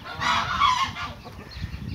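Brown signal geese, farm birds kept loose in a yard, honk loudly and continuously in a noisy overlapping burst nearby.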